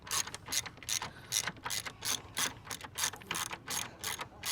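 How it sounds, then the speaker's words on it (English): A socket ratchet clicking rapidly in short repeated bursts as it loosens a 10mm battery hold-down bolt on a 2018 Chrysler Pacifica, close and crisp, with no talking. "All we need to do is loosen the bolt right down in here"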